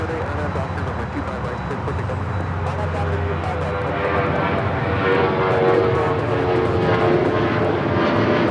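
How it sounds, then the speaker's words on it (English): Delta Air Lines Boeing 737-900ER taking off from Los Angeles LAX toward Nashville, its jet engines building into a loud, rising roar with a tonal whine. A voice talks over the noise. "This is Delta Airlines 449 taking off to Nashville, Tennessee on the 737-900ER."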